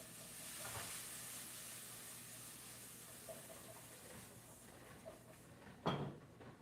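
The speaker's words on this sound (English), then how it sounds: "Put those in the pan with the butter and the garlic. Saute that up." Shrimp and scallops sautéing in butter and garlic, a quiet steady sizzle in a pan with occasional clinks and a sharper kitchen clatter near the end.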